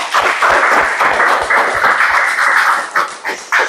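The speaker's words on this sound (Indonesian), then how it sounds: "kita kasih aplaus untuk kelompok 1" A school class in Indonesia claps for group 1, producing a loud, brisk burst of many hands clapping together that lasts a few seconds and thins into scattered claps at the end.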